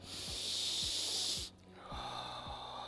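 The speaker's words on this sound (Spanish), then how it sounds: "Sigue respirando." A person breathes deeply during a guided relaxation exercise, close and quiet. There is a long hissing exhale, a pause, then a slower breath, over a faint steady background hum.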